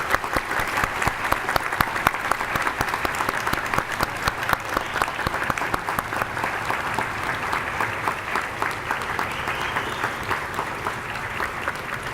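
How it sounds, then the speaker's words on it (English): Sustained applause from a ceremony audience at a medical school white coat ceremony, dense rapid clapping holding steady for about twelve seconds, full and close, with no speech over it. "Join me in giving them a round of applause."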